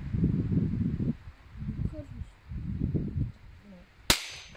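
A single sharp air rifle shot cracks out near the end, coming after stretches of people talking outdoors.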